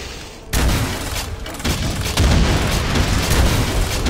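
Loud, dense gunfire and explosive booms in the video game Brutal Doom, a continuous roar of shots and blasts for the whole stretch with no talking.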